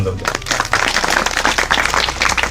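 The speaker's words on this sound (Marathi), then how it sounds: "यांच्यासाठी एकदा जोरदार टाळ्या" A crowd claps loudly and continuously at a Buddhist scripture ceremony, dense overlapping hands filling the short span without pause.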